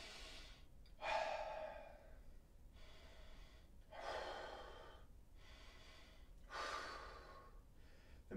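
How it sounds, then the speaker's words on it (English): Slow, deep breaths during a hip stretch come in three long audible exhales, each a soft breathy rush close to the listener, separated by quiet pauses. "We're breathing."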